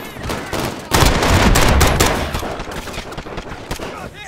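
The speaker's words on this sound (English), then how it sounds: "I'm taking fire." Dense, loud bursts of automatic gunfire and rapid shots come from Call of Duty Warzone, played on a Ryzen 5 5600X PC with an RTX 3060. The shooting continues throughout with little pause.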